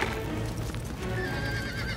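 Horses whinny and neigh amid a busy, noisy commotion during a fire, with shrill calls rising above a steady rumble and faint hoof movement.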